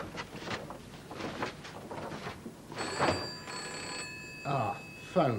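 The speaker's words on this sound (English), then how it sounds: "Ah, phone." An old telephone bell rings in a 1985 BBC children's science programme, a sustained ring in the second half, heard amid movement noises and people talking.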